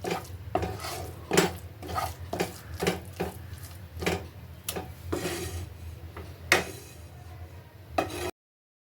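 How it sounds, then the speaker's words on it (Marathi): Prawn mince mixture being stirred in a pan with a utensil, a series of scraping, clattering strokes against the metal, followed by the knock of a lid being set down, close and fairly loud with no voices. "मिश्रण परत व्यवस्थित परतून घेऊयात आणि परत झाकण ठेवूयात"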